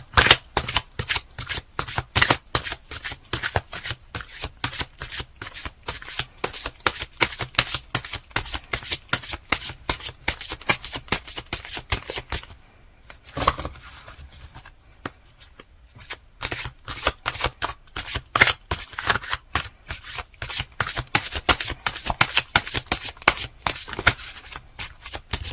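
Tarot cards are shuffled close up in a rapid, continuous riffling flutter of crisp card slaps, with a brief pause midway before the shuffling resumes.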